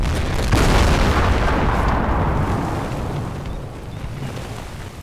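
Massed artillery and battleship fire in a planetary bombardment game, with 110 artillery pieces and 136 battleships firing together: a dense, continuous roar of overlapping booms that slowly thins and fades toward the end, with no talking.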